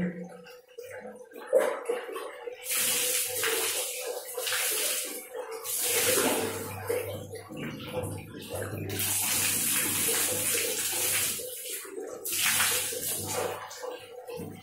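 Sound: rinsing face with running water

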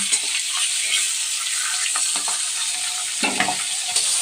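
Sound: fish frying and spattering in oil

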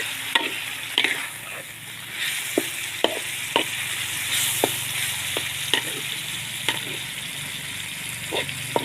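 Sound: stir-frying pork on high heat for pad kaprao

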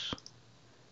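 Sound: computer mouse clicking

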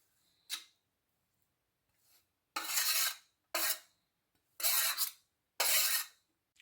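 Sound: stirring grated fresh turmeric and ginger pickle mixture

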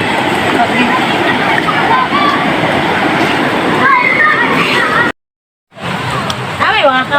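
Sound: strong river current flowing water

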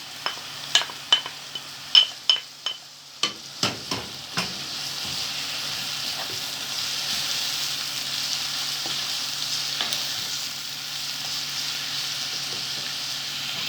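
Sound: vegetables and carrot being sautéed in a pan

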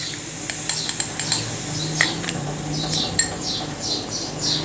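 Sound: adding salt to papad dough with a spoon

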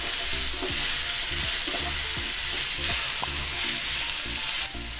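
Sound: sautéing tomato, garlic, green chili and ginger in pan

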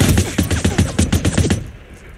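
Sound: sniper gunfire in a video game

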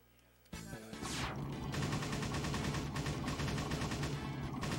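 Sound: rapid gunfire in Point Blank light-gun video game

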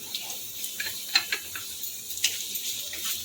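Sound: green chili, ginger and garlic sizzling in oil

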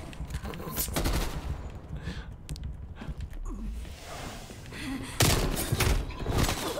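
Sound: gunfire in a video game

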